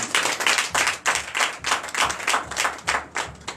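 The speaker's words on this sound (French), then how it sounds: "Donnez l'acclamation au Seigneur" A church congregation at a Sunday service in Comè, Benin, clapping together in a strong rhythmic pulse, loud, close sharp beats repeating about twice a second.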